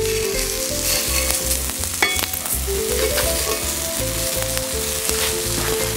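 Onion pieces sizzle loudly on a hot griddle beside a hamburger, a dense steady crackle with a faint metallic ring partway through.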